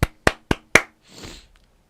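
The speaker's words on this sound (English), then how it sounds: "Applaud." Four sharp, evenly spaced hand claps ring out close and loud, followed by a brief soft rustle, with no talking.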